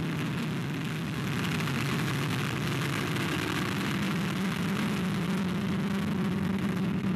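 Vega rocket ignition and liftoff on flight VV05, a steady loud broadband rumble with a strong low roar that holds constant throughout, with no voices.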